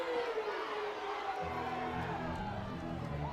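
A huge crowd at a college softball game between Tennessee and Mississippi State roars steadily after a home run, broad cheering and shouting sustained and loud throughout, with a commentator's voice faintly under it.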